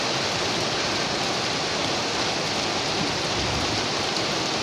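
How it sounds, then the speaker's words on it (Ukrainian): A heavy downpour roars steadily on a farm, a dense continuous hiss of rain pounding surfaces close by, with no voices. "У нас злива."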